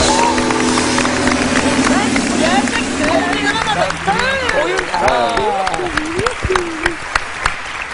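A television talk show studio audience breaks into steady, loud applause that carries on for several seconds, with laughter and voices rising through the clapping as it slowly thins out.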